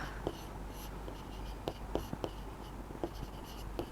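A pen scratches and taps on paper during a Class 9 math lesson on circles and arcs. The strokes are soft and intermittent, with small clicks over a steady low background hum.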